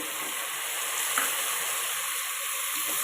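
Soaked toor dal steadily sizzling as it fries in hot oil for radish sambar, a close, even, continuous hiss with a brief stirring scrape.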